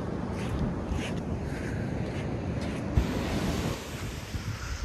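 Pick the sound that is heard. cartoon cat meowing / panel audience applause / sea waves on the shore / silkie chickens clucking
sea waves on the shore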